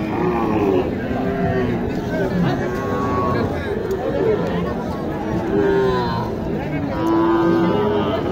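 Cattle at a busy village cattle market in Naogaon, with several cows lowing here and there over a constant crowd babble and nearby voices talking.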